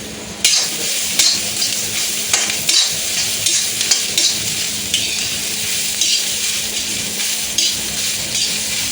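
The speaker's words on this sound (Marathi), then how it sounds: "तर या 7-8 मोठ्या लसणाच्या पाकळ्या आहेत त्या देखील यामध्ये आपण आता फ्राय करून घेऊया" Seven or eight large garlic cloves and a tomato fry in hot oil for a mutton curry, a loud steady sizzle broken by regular scraping stirs of a spoon against the pan.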